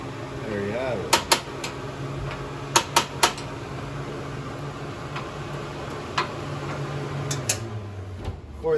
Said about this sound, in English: turn it to a little flame, hit it with the sparker